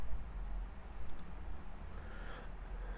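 A computer mouse clicks through a server setup screen, giving a couple of short, crisp clicks near the start and middle over a quiet room hum.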